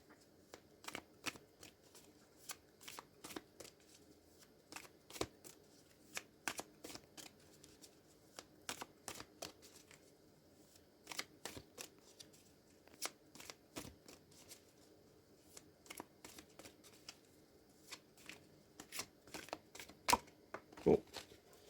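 Tarot cards shuffled repeatedly by hand, a steady run of crisp riffling bursts and card snaps at close range, fairly quiet, with no one talking over them.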